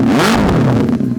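A 2017 Benelli 600i motorcycle with an SC Project custom exhaust gives one quick, loud, close throttle blip that rises sharply and falls back.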